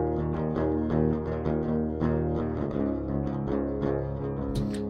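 Unprocessed direct-input rhythm guitar tracks with no plugins play a thin, dry chugging riff of rhythmic strummed chords, heard up close with no talking.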